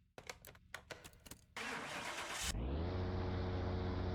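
Twin-turbo V12 of a Pagani Huayra in a car mechanic simulator game, a few clicks and starter cranking bursts, then the engine catches with a loud flare and settles into a steady, deep, smooth idle.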